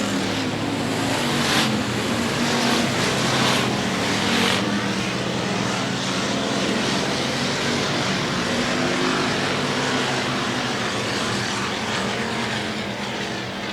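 Race cars battle door to door on a Texas speedway, a dense, loud wall of engine roar sustained throughout with a few brief surges, no voices over it.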